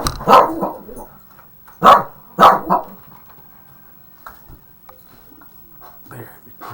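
Dogs bark outside a window in a few sharp bursts, two or three close together and then fainter yips, with quiet room noise between them.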